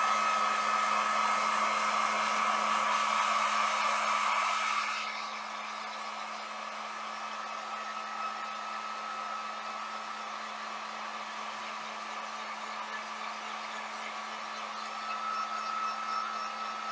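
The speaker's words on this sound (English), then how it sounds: "I'm just going to use my heat gun on it" A heat gun blows loudly and steadily while drying ink on a shirt, then drops to a lower, softer setting and runs on as a constant hum with no voices.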